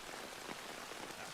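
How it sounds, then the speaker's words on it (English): Heavy rain pouring in a film scene, a dense, steady hiss of drops hitting surfaces, continuous and evenly loud with no voices. "It's raining in Harold's world too."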